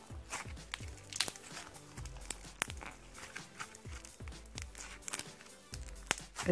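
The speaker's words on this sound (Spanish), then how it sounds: "Este es un slime crujiente." Crunchy slime squeezed and handled close up gives irregular crisp crackles and pops, some sharp and loud, scattered over a soft wet squishing background with no speech.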